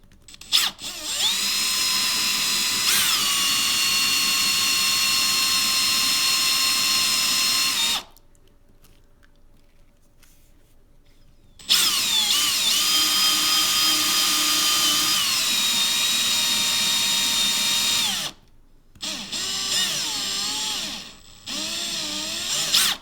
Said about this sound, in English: on this one I'm going to drill the bore bit first, then come back around with the drill bit